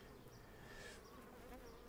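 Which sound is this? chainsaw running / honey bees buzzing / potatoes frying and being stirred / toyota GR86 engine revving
honey bees buzzing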